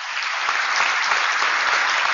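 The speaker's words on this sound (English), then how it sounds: "Let's give them a round of applause." Audience applause at a live Blarney Breakfast broadcast in a Radisson Hotel room: dense, even clapping from a seated crowd, sustained and loud from start to finish.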